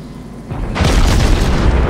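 Heavy naval gunfire from a Königsberg cruiser in World of Warships, a loud booming salvo swelling into a sustained rumble that fills the second half, with no speech over it.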